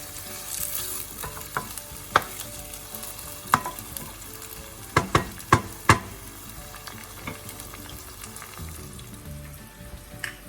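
Tomatoes sizzling in frying oil while being stirred, a steady sizzle broken by several sharp spoon-against-pan knocks, a cluster of them in the middle, heard up close without speech.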